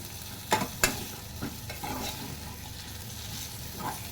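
Drumstick pods and cooked toor dal are sautéed and stirred in a pan, giving a soft continuous sizzle with a few louder scraping knocks of the spoon near the start and no talking.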